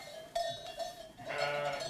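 Lambs on a sheep farm bleat in short, nasal calls, two or three distinct cries at moderate distance, fairly faint, with no talking.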